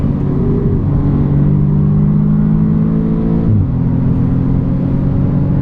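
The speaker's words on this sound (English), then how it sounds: "The exhaust note sounds great." Exhaust of a 2017 Audi S3 pulling hard in third gear, a loud, close, steady rising engine drone with a brief dip like a shift near the end.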